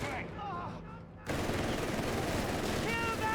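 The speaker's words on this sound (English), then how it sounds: "we got that MD-42. They're practically forgotten even by SniperKIA in action, and there you go, meeting the British with a good old German greeting" An MG-42 machine gun fires in Company of Heroes 3 during a Wehrmacht versus British match. After a short stretch of battle noise with voices, a continuous, dense rattle of rapid fire starts and keeps going.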